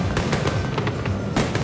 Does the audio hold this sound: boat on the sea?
no